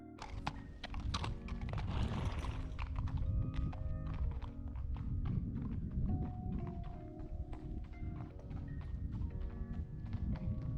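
An endurance horse shifts about and its hooves clop and thunk on a hard surface in an irregular sequence of close knocks, with steady background noise and no talking.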